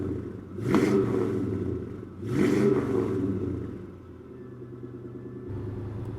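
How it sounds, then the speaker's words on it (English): An LS-swapped 1955 Chevrolet 210 Bel Air cruising, its V8 giving a steady low rumble inside the cabin, with two brief swells of louder engine noise early on before it settles back to an even drone. "we're out cruising in the 55"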